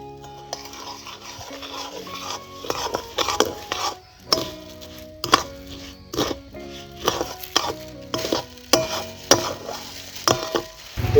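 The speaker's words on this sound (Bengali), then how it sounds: "এই ভেজে রাখা চিড়েটা দিয়ে দিলাম আমরা এই গুড়ের ভেতর।" Fried flattened rice being stirred into hot jaggery for sweet balls, heard as a series of sharp utensil scrapes and taps against the pan in an uneven rhythm, fairly quiet with no talk.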